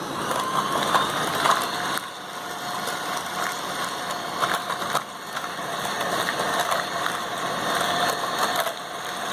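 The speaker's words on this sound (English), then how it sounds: "to this mango puree we'll add this sugar and we'll mix it, blend it together" A blender mixing mango puree with sugar, a steady loud whirring motor hum that runs continuously with slight shifts in pitch, close up and without speech.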